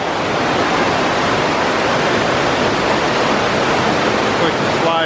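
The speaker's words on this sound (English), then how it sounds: "But there's water coming out of the slide." Water gushes loudly and continuously out of a broken water slide at a water park in Sheboygan, Wisconsin, a dense, close, unbroken roar with no pauses.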